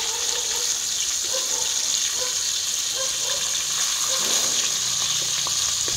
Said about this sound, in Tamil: மீன் ஒரு பக்கம் நல்லா வந்து ஃப்ரை ஆகிடுச்சு, நல்லா வாசனை வருது